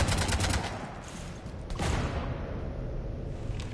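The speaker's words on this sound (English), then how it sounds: "You want to stop shooting up my ship?" Gunfire rakes a ship during a Mass Effect-style firefight on the Citadel, with rapid bursts of rounds in a dense fusillade. One sharp impact sounds near the middle, then continuous shooting follows with no voices.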